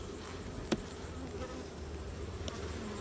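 Honey bees hum steadily around a hive during a frame inspection of capped honey, a low continuous buzz with a couple of brief sharp clicks.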